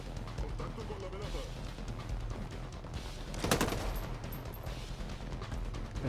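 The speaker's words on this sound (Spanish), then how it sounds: "Fijaos la de disparo que se tiene que llevar" Automatic-weapon gunfire in the video game Ghost Recon Breakpoint, a continuous rattling firefight with a louder burst near the middle, heard under game background noise, with speech likely present.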